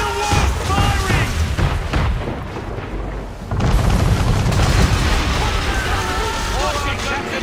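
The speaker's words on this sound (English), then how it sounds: "We're under attack! Man of war firing!" Man-of-war ship firing cannons in the video game Assassin's Creed 3, with loud booming blasts over a dense roar of battle and sea noise while voices shout over the action.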